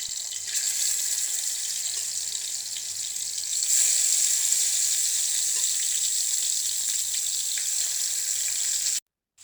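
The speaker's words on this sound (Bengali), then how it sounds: "এখন কড়াইতে তেল দিয়ে খাঁটি সরিষার তেল দিয়ে দিলাম। এখন মাছটা ভাজবো।" Fish frying in pure mustard oil in a kadai, a loud continuous bright sizzle held steady and close, growing slightly stronger partway through before cutting off abruptly at the end.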